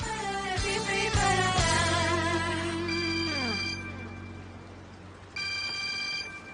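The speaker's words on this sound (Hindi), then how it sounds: "फोन जल्दी उठाओ और स्पीकर पर डालो।" A telephone rings indoors in a bright electronic trill, sounding in bursts with a pause before it starts again, loud and alone with no talk over it.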